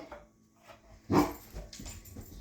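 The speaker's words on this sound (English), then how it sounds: "My daughter's coming in the back door, so the dogs are gonna bark" Household dogs bark as someone comes in through the back door of a home kitchen, one loud bark standing out among softer yips and whimpers, with no talking.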